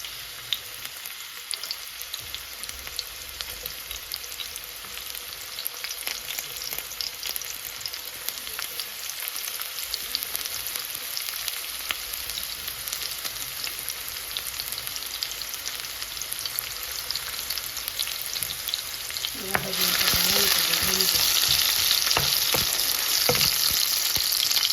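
Chopped onion and garlic frying in a generous amount of mustard oil, a continuous close sizzle with light stirring that suddenly grows louder and harsher near the end as more goes into the pan.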